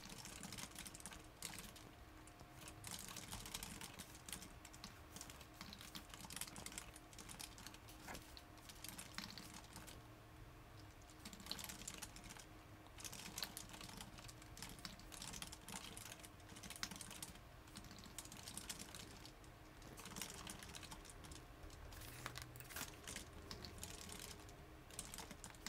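Fingers type steadily on a computer keyboard, a quiet, continuous patter of rapid key clicks carrying on alone without pause while text is written.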